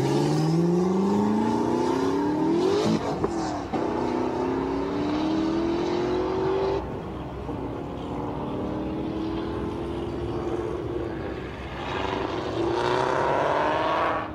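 An 1100 HP twin-turbo Ford GT accelerating hard down a drag strip, engine note climbing through rising pitch sweeps with gear shifts, loud and continuous, then easing off as it runs down the track.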